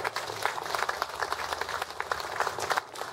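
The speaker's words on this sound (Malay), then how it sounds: "Beri tepukan gemuruh anak muda kita." Crowd applause welcoming a teacher onto a stage, a dense, fairly faint patter of many hands clapping continuously throughout.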